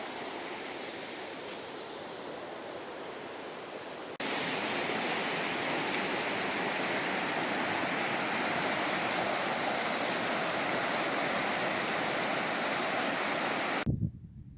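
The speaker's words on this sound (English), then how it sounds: "You can hear the river from our campsite." A river rushing near a campsite in the mountains, a continuous broadband roar of flowing water heard from a distance, then swelling louder and closer for most of its length before cutting off abruptly.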